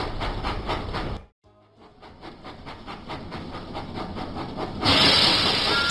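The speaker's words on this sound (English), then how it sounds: "Thomas puffed proudly into Knapford Station." A cartoon steam locomotive, Thomas the Tank Engine in a video game, puffs in steady rhythmic chuffs, cuts out briefly, resumes and builds, then ends in a loud sustained hiss of steam.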